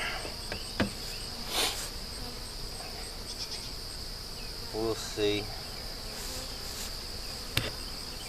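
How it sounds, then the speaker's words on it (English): Insects hum and buzz around a honey beehive outdoors, a steady high drone with a few louder passes close by, while someone speaks briefly. "lots of bees up top"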